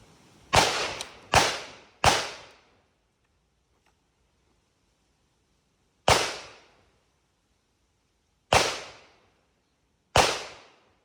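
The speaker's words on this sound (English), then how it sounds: "We're picking up the neighbor's shots, unfortunately" Six sharp gunshots from a neighboring shooter at a range, heard at a distance: three in quick succession, then three more spaced a couple of seconds apart, each with a short decaying echo and no talk.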